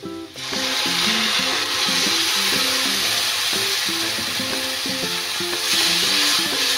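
Ground masala paste fries and is stirred in a pan for a Bengali egg curry with cauliflower and potato, a constant close sizzle running under melodic background music.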